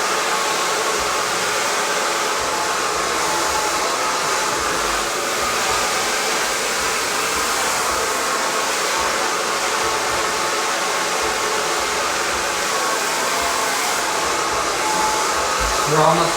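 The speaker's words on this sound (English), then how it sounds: "This is like watching eggs boil, huh? Blow drying." A handheld hair dryer blows steadily while drying hair at home, a loud continuous broadband whoosh that runs unbroken throughout with no talking.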